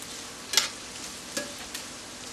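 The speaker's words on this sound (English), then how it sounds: "while my mushrooms are getting nice and lovely, taking on that butter and the bacon flavor" Mushrooms frying in butter with bacon in a pan, a steady close sizzle with a few brief louder spits and stirring scrapes, no voices.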